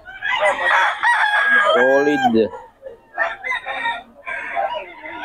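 Roosters crow loudly and close at the Bocaue tiangge market, one long crow followed by further calls and clucks, with someone speaking briefly.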